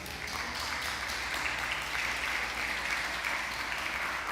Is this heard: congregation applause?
yes